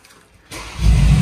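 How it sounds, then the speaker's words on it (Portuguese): A 2020 Mercedes-Benz G63 AMG, an armored build, cranks and fires up after a brief quiet moment, its engine catching with a loud burst and settling into a deep, rumbling run close by. "Gelandewagen em funcionamento."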